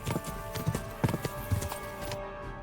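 Horses galloping in a chase in Kingdom Come Deliverance 2, with sharp irregular hoof clops thudding close by over a humming music bed, fading out near the end.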